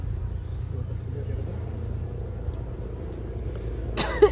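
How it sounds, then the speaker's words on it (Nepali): A single short cough near the end, over a low steady rumble of background noise. "मलाई खोकी आयो फेरि"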